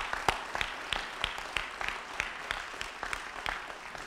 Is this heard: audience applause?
yes